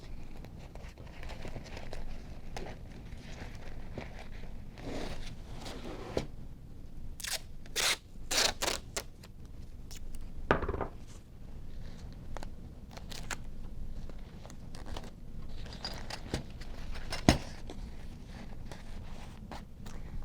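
Autoclave tape pulled and pressed on to close a wrapped sterilization pack, with several sharp tearing strips and crinkling handling sounds close by, and no talking.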